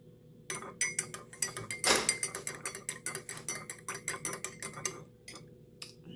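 A spoon stirs turmeric power tea in a cup, clinking against the sides in a quick, steady rhythm of bright metallic taps, close and alone for several seconds.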